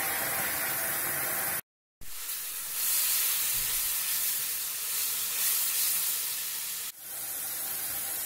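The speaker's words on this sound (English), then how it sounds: "Add in some tomato paste." Tomato paste added to a hot pan of light-brown fried onions gives a steady, loud broadband sizzle and hiss, briefly cut off once near the start, with no talking.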